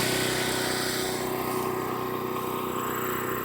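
A tractor engine runs steadily and loudly close by, a continuous rumbling drone with a constant pitch, no talking over it.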